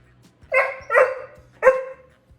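A Great Dane puppy lets out three short, close yelping howls in a quiet room, each a brief burst with a short pause between.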